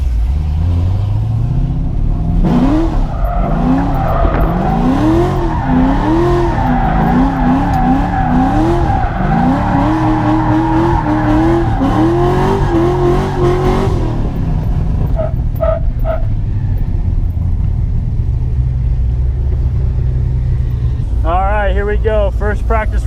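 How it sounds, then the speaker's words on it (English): A drift car warming up its tires at a drift competition: loud engine revving in rising and falling sweeps with tire squeal for about a dozen seconds, then lower idling and a final rev burst. "All right, let's warm up these tires."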